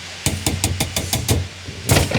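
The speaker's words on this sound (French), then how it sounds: "Je vais prendre mon petit marteau, juste la retirer." A small hammer strikes a freshly welded metal piece to knock it free in a welding workshop, about eight sharp, close knocks in a quick irregular rhythm, with a final louder double blow.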